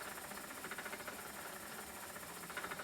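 A treadle spinning wheel running fast on its smallest whirl makes a steady, faint whirring hum with a soft rhythmic pulse, continuous and without voices.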